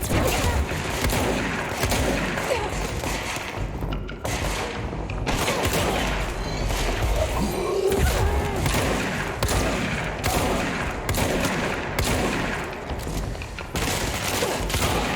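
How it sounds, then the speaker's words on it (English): Gunfire in the video game Control strikes several enemies amid dense, continuous combat noise, with sharp repeated shots and impacts layered over a busy game soundtrack throughout. "So there's multiple bullets here, hitting multiple enemies."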